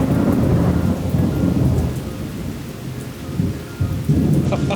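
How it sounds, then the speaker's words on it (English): An afternoon thunderstorm in Ubud, Bali: loud, steady rain pours down over a continuous low rumble of thunder, swelling and easing slightly without any voices. "This storm just came out of nowhere."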